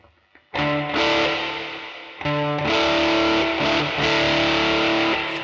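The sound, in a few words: electric guitar fuzz into room reverb, Electro Harmonix Holy Stain pedal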